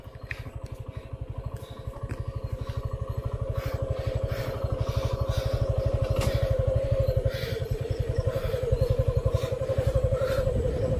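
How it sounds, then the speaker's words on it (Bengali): A motorcycle engine running without a key, heard up close as a loud, steady rapid thumping beat that continues evenly throughout with slight swells in level. "বাইক চলা শুরু হয়ে গেছে, চাবি ছাড়া চলছে।"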